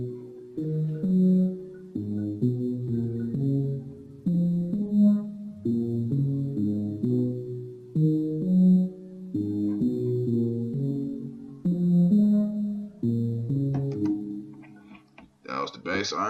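Synthesizer bass arpeggio patterns repeat in steady, rhythmic stepped notes across the whole stretch, loud and continuous, with a brief different texture near the end.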